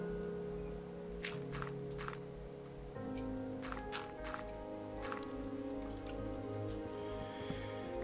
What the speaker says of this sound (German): Es regnet sogar gerade.